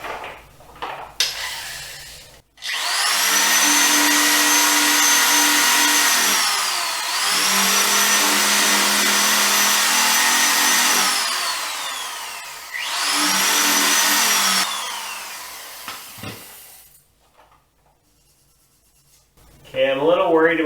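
A loud, high-pitched whining power tool, not a wire wheel, grinds rust off a Lotus Esprit part in three long close bursts, with brief pauses and some rattling before and after.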